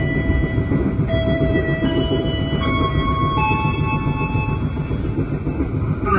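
KA Brantas passenger train rolling on rails toward Jakarta, a continuous loud low rumble with steady wheel noise and faint high squealing tones, heard from on board with no talking.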